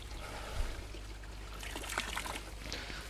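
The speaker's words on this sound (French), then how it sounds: "Donc j'en verse un peu dans la lagune." Dissolved Supertab solution is poured into the lagoon of a garden pond with small cascades, a soft splashing trickle over steady running water, with a brief bump near the start.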